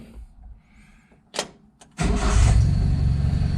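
Datsun 521 with a newly installed Weber 38/38 carburetor, a few faint clicks and a short whir of cranking, then the engine catches and settles into a loud, steady idle.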